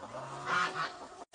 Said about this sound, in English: There's our little chickens.